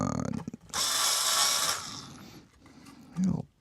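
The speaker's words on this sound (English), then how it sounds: "I'll let you look at that a little bit more while I deburr these last couple holes" A power tool whirs loudly for about a second while it deburrs drilled holes in a metal amplifier chassis, with short mechanical clicks before it and a brief voice near the end.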